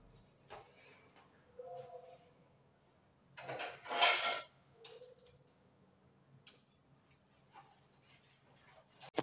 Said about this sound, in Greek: είπα ας πλύνω κάποια πιάτα